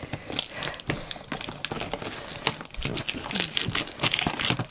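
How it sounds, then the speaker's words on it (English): Close crinkling and tearing of sellotape and paper wrapping on a package, irregular bursts of rustling with a voice faintly underneath. "That means, unfortunately, I'm going to have to unsellotape it."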